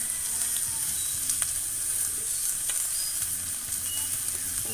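A grilled pork chop gives a dense, continuous sizzle with a few faint pops and crackles mixed in, steady and close throughout, with no speech.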